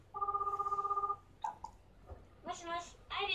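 In the PS3 dating game AKB 1/149 Renai Sousenkyo, a phone rings in a fast warbling ring for about a second, followed by clicks and short bursts of voices.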